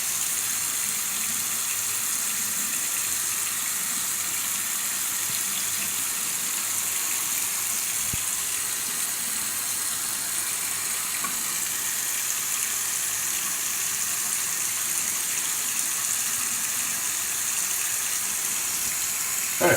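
Tap water running into a sink while rinsing after a straight razor shave, a steady, even hiss of flowing water that continues unbroken throughout.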